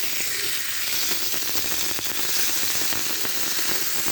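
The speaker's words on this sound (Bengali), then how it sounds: "বড় দুটা তেলাপিয়া মাছ ভাজি করছি" Two large tilapia fish, rubbed with ground turmeric, dried chilli, salt, cumin, pepper and black cumin paste, fry in hot oil with a steady, dense sizzle and crackle throughout, close and loud with no talking.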